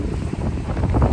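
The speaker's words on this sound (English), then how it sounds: "I don't know if you can hear it in the video, but it's really windy right now" Strong wind blows outdoors on a very windy morning, buffeting the microphone with a loud, rumbling, uneven roar that fills the whole short moment.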